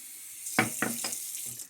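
A shaving brush with a B4 knot is plunged back into a basin of water, giving a few quick splashy sloshes close by, with no talking.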